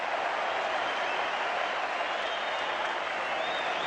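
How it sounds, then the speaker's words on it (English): A dense, steady roar from the stadium crowd at the Melbourne Cricket Ground during the 1992 Australia versus West Indies second cricket Test. The wash of cheering and clapping holds loud and unbroken throughout. "Listen to the roar of the crowd."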